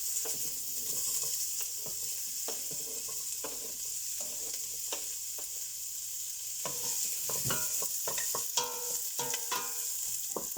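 Peppers frying in hot fat on a cooker hob, giving a soft continuous sizzle with scattered utensil scrapes and taps as they are stirred, growing slightly busier toward the end, with no voices.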